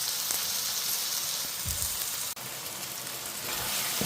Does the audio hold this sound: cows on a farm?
no